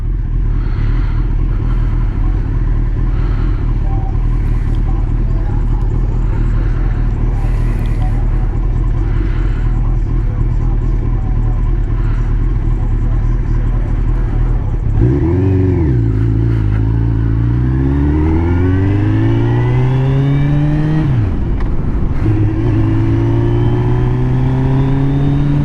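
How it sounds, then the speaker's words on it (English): A 2005 Suzuki GSX1300R Hayabusa motorcycle on the road, its engine droning steadily close by, then revving up and down through rising and falling pitch sweeps in the second half, with wind rumble throughout. "We're on the Hayabusa."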